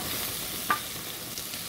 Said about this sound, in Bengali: একটু নেড়েচেড়ে ফ্রাই করে নিচ্ছি